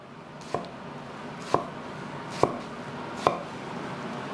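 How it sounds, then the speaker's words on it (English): A knife chops on a board four times at a slow, even pace, crisp and close, over faint background noise. "Now start to chopping the tomato up."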